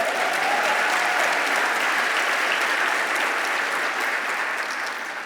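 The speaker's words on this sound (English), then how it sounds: "That deserves an applause for sure" Dense, sustained audience applause fills the room at an even loudness, many hands blending into a continuous roar that eases slightly at the very end.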